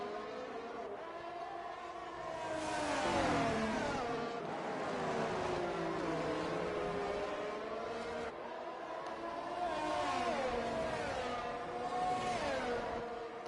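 Formula endurance race cars overtake at the Netherlands round of a sim racing game. Several high, whining engines rise and fall in pitch as they pass close together, continuous and moderately loud.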